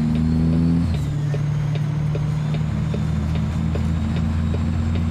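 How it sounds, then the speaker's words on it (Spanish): Kenworth T600 truck with a C15 engine in Truck Simulator, droning steadily at close range with a strong low hum. The pitch drops shortly after the start and then holds at a deep, even note. "De repente este motorcito del C15 suena como carro, ¿no?"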